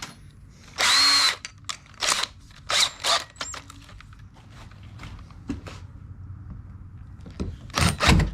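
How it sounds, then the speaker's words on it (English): A power drill pre-drills a hole in a fiberglass kayak in several short, close, loud whirring bursts with pauses between them and quieter handling noise in the gaps. "I'm gonna drill this, pre-drill this centered so my drill bit starts easier"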